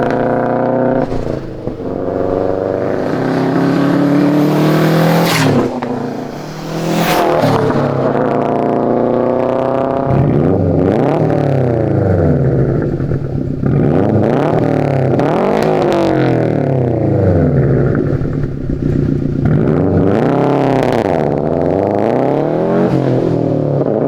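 A 2015-2021 Subaru WRX/STI with an aftermarket exhaust revving hard, the engine note climbing and falling in repeated sweeping blips, loud and close with brief pauses between bursts.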